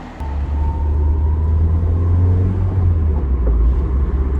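A Toyota MR2 on the road, its engine a steady low drone with a slight rise and fall in pitch, heard from inside the car at a constant moderate level with no talking.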